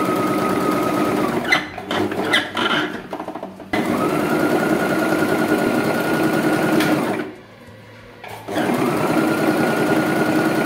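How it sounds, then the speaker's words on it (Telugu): Sewing machine stitching the neck of a kids' blouse: loud, close, rapid mechanical whirring in long runs, broken by short pauses and a near-silent gap before the stitching resumes. "ఫస్ట్ నెక్ స్టిచ్ చేసుకోవాలి 2 పీసెస్."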